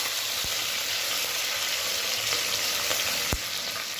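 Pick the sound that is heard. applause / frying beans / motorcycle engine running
frying beans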